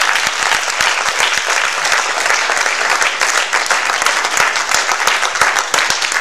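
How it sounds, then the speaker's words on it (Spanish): A church congregation claps loudly and steadily during a sermon. Dense, continuous applause fills the whole stretch with no voices over it. "Un aplauso para él."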